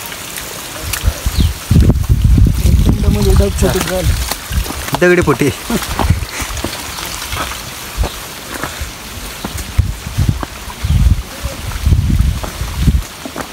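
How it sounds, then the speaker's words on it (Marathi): Heavy rain pours at Rajgad Fort, a loud, uneven rush with bursts and spatters close to the microphone, while people speak briefly over it. "प्रचंड पाऊस चालू आहे"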